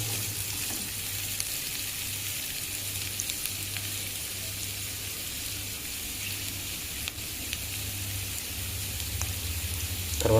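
Poha upma tempering fries in oil over a medium flame, a steady close sizzle and crackle running the whole way with no voices.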